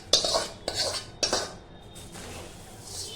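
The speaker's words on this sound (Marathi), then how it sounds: "हे तेल याच्यामध्ये मसाला ओतून घेणार आणि मग हळूहळू हलवणार" Spiced oil is stirred into roasted poha chivda in a metal vessel: a few sharp spoon clinks and scraping strokes, close and fairly quiet, then a soft rustle of stirring.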